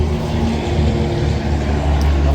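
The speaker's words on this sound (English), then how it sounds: "there's a lot of sound. A lot of traffic, this time of the day." Midday road traffic passing nearby: a dense, low engine rumble and tire roar, steady and fairly loud throughout, with no distinct single vehicle standing out.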